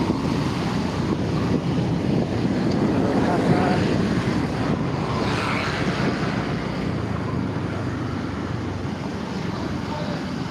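Steady, heavy wind buffeting the microphone on a street in Cebu, with a constant low roar throughout, drowning out other sounds; no clear speech.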